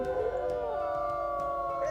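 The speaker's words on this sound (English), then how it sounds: "this is a normal howl" A single long, wavering wolf howl from a video game holds steady and close, with faint background noise.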